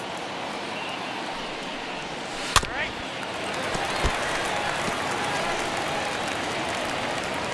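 A baseball stadium crowd in an MLB video game with a steady, broad roar of cheering and murmuring that holds at an even level, with a brief sharp crack partway through.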